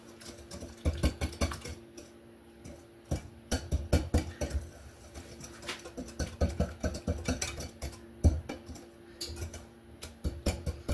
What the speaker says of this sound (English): And we're just going to mix all it up really well.